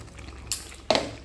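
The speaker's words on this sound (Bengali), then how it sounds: "পনিরটা দিয়ে ভালো করে নাড়াচাড়া করে নেব" Paneer is stirred into a potol (pointed gourd) curry gravy in a pan, with two short, close scrapes of a spoon against the pan over a quiet background.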